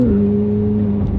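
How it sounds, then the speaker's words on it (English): McLaren 750S twin-turbo V8 supercar, a loud steady engine drone with a low burble, close and continuous, no talking. "There's definitely more burble and more turbo flutter than the stock 720"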